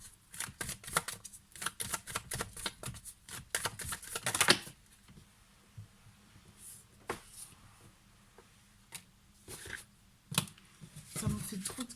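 Tarot cards riffled and shuffled in rapid papery bursts, busy at first and then sparser, with soft scattered flicks and taps close by.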